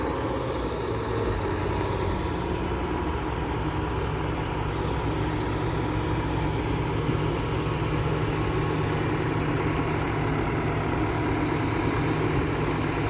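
An engine idles steadily with a low, constant rumble, loud and close, running without pause and with no talk over it.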